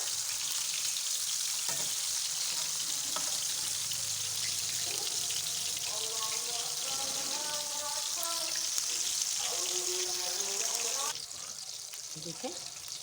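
Beef chapli kabab patties fry over low heat in a pan, a steady close sizzle running throughout while someone speaks over it, and the hiss eases slightly near the end.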